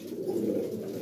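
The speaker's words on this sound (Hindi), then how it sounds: "बहुत अच्छा कबूतर है" A pigeon, a single-coloured male with broad neck rings, coos in one low, steady rumbling call held close and clear for about a second.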